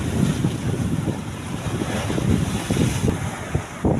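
Strong monsoon wind roars steadily across open sea near a fishing boat, a dense broadband rush with waves sloshing and gusting buffets against the microphone, no voices.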